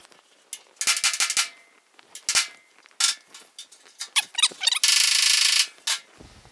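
Hammer blows on the steel door panel of a 1950 Chevy truck during bodywork, a rapid irregular series of sharp metallic smacks and bursts up close, with a longer clattering rush near the end.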